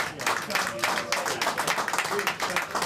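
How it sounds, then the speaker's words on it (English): Audience at a village grand draw in Bampton, Oxfordshire, applauding with dense, steady clapping throughout, fairly close, with faint voices mixed in. "So give yourselves a round of applause"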